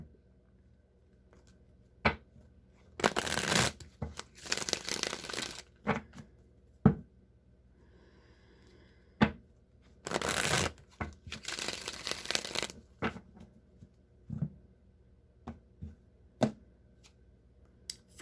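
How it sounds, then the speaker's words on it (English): Rider-Waite tarot cards are shuffled by hand in several bursts of riffling and crisp card slaps, separated by quiet pauses and occasional single taps, close and clear. "now I'm just going to shuffle the Rider-Waite Tarot"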